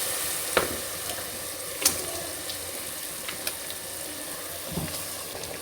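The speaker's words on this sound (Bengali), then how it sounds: "এখন এর মধ্যে আমি মাংসগুলো দিয়ে দিচ্ছি" Meat tipped into fried spiced masala in a pan, a continuous moderate sizzle of frying with occasional sharp clicks and scrapes of a utensil against the pan, close by.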